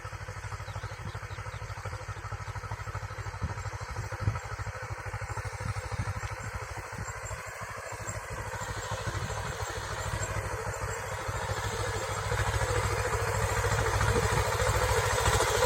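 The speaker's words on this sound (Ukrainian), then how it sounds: "Трактор біжить." A steady tractor diesel engine rumbles continuously, growing slightly louder toward the end, with a constant low throb and rattling.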